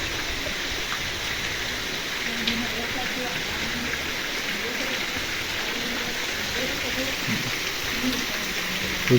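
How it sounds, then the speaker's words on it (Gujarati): Heavy rain pours down in a steady, unbroken hiss of water, dense and continuous from start to finish, with a voice faintly talking underneath. "વરસાદ અત્યારે પડી રહ્યો છે"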